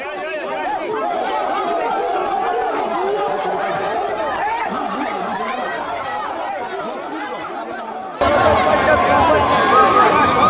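A large street crowd in Bangui, Central African Republic, gathering to lynch two men, makes a dense, continuous babble of many voices that grows louder and closer toward the end.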